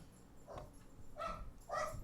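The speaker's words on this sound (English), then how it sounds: "there goes the dog." A dog barks indoors, several distinct yappy barks spaced about half a second apart against low background hum.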